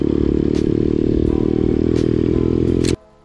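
A 125cc pit bike rides along rural field roads, its engine buzzing loudly and steadily with rattling clatter and a few sharp scrapes before the noise cuts off abruptly near the end.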